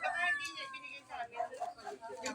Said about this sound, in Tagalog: Kung kaya mo, hawakan ng pusa.